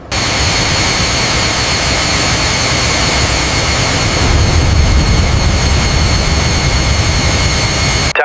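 A Tu-22M3 bomber's jet engine runs steadily at high power, a loud, dense roar with a constant whine that holds without break for about eight seconds, close and alone.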